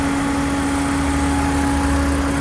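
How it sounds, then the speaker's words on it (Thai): A 2021 Toyota Yaris 1.2 engine idles close by with a steady, even hum and light vibration, unchanging throughout, with no voices. "เครื่องยนต์ก็เดินนิ่ง เดินเงียบ สมูทเลยนะฮะ"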